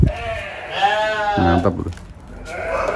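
A goat in a livestock pen bleats once in a wavering, quavering call, close by, with someone speaking briefly around it.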